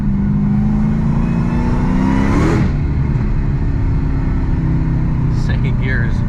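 A 6-speed manual swapped Dodge Hellcat Charger accelerating hard in second gear, its engine revving up in a loud rising roar that peaks and drops off sharply, then a steady loud drone continues, recorded close from inside the car.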